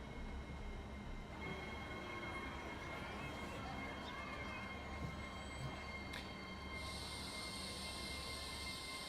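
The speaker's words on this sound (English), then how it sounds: "I need to launch another one of them trains." A train set moving in the Transport Fever 2 game, a steady rolling rail rumble with faint squealing tones lasting throughout, with a brighter hiss entering near the end.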